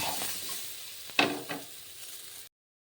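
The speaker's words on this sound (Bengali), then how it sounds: "আকরি আলুগুলো প্রায় লাল লাল করে ভাজা হয়ে গেল" Potatoes frying in oil in a wok, nearly browned, give a close, steady sizzle with a sharp spatula scrape and clatter partway through, then cut off abruptly into silence.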